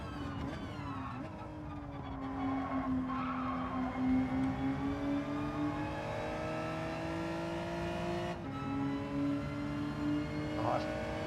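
Race cars in Gran Turismo 7, including a Hyundai Elantra, with engines droning and shifting pitch as they accelerate, plus tire skids, while a voice comments over the racing.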